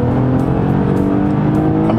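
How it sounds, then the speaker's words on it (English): A 2018 Toyota Camry with a 300 hp engine and traction control switched off accelerates hard in a low gear, spinning its front tires, with a loud, steady engine roar close by and no talk. "with the traction and everything turned off, it'll just spin the tires, especially in the low gears"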